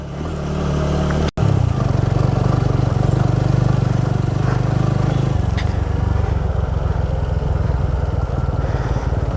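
A trail motorcycle runs in second gear on a rough forest trail in Goa, its engine droning loud and close with steady pulsing exhaust after a brief cut near the start.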